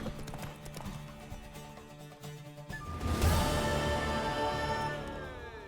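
Hooves clip-clop in a steady rhythm as a Witcher 3 game scene plays, joined midway by a swelling musical chord that lingers to the end.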